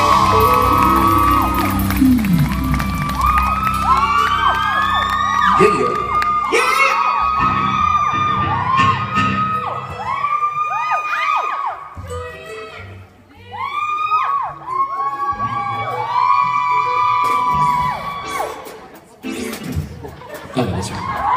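A live crowd at a concert sound check screams, whoops and cheers in overlapping bursts, with shrill sustained yells and chatter rising and falling across the stretch.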